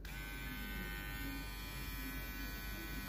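A Kemei KM-1963 electric hair clipper switched on and running, a steady, even motor buzz that holds close and constant throughout with no talking.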